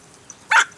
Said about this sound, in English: We have another dog in the scene.